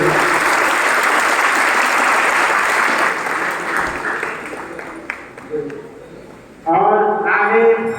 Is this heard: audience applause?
yes